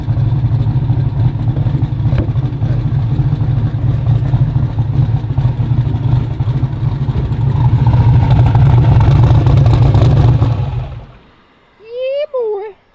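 A 1500hp twin-turbo street car engine drones loud and close in a sustained heavy roar that builds slightly before cutting off, followed by a short voice and a chirping sound.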